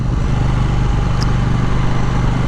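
A KTM Duke 790 motorcycle rides along with a steady, loud, continuous engine drone and thick wind rumble, unbroken throughout.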